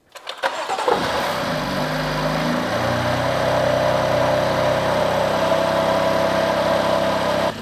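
A BMW M4 F8x cold-starts with a short starter crank, then catches and settles into a loud, high, steady cold-start idle. It is close up and runs without talk.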